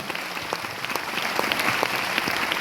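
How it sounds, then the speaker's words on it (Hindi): Moderately distant crowd applause at a motivational event, many hands clapping in a steady wash with scattered sharper individual claps, building slightly louder toward the end. "मैं चाहूंगा इस सिस्टम के लिए एक बार जोरदार ताली हो जाए"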